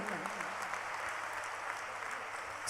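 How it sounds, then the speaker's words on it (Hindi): Crowd applause at a Hindu saints' gathering at Bageshwar Dham welcoming Sadhvi Ritambhara, a fairly faint, continuous patter of many clapping hands heard from a distance, with a low voice faintly underneath at the start. "जोरदार तालियों से उनका अभिनंदन"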